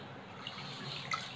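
Water sloshes and trickles steadily as soaked ration rice is rinsed by hand in a vessel, a soft continuous wash with a couple of small brighter splashes near the end.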